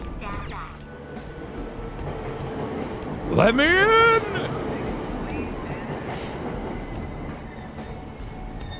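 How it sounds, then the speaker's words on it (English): A subway train rolls along in the video game Persona 5 Royal, a steady rumbling ride with faint rhythmic clicks, and a shouting voice breaks in briefly over it. "I have to take the subway like a scrub."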